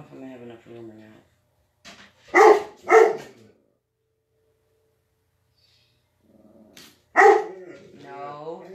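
Dogs indoors barking at other dogs outside: a few loud, sharp barks in two short bursts, close by, with a person speaking before and between them.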